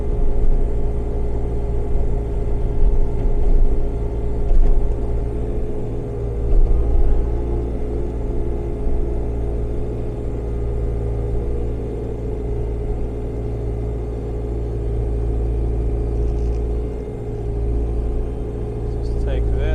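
A 2014 Bobcat Toolcat utility vehicle pushes snow, its engine giving a steady, loud, low rumble with mild surges throughout and no break.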